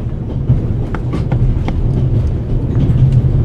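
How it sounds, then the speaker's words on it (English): Steady low rumble of a train carriage on the Orient Express in a video game, a continuous rolling drone with faint clicks and rattles throughout, loud and close, with no talk. "The noise on this train is driving me crazy."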